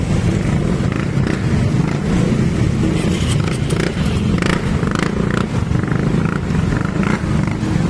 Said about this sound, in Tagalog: Sumubok tong mga motor na to.